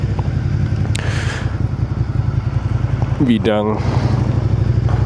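A Suzuki SV650 motorcycle rumbles steadily through a ride around a residential neighbourhood, its low engine drone continuous beneath a voice, with a brief burst of louder mechanical noise midway.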